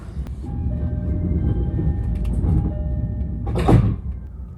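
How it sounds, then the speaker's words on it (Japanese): Train doors at Akabane station slide shut with a sharp whooshing thump near the end, following a rumbling idle of the train and a faint ringing departure tone. "発車ベルが鳴り扉が閉まります"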